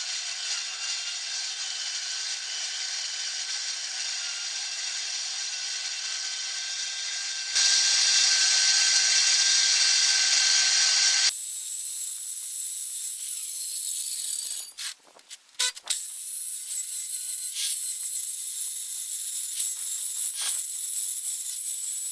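A circular saw fitted with a dry cut blade cuts steel, a sustained high whine that grows louder and harsher partway through, then shifts to a thinner tone broken by brief sharp bursts and clicks.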